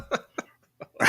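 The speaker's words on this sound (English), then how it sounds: "I've been coughing a little bit." A person coughing several times in short, sharp bursts, ending with a harsher, breathier cough, close and fairly loud against silence.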